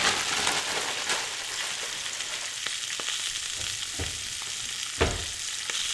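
Olive and vegetable oil sizzle steadily in a worn, no-longer-nonstick frying pan while breakfast burritos are cooked, with a few sharp utensil clinks and scrapes rising over the constant close-up hiss.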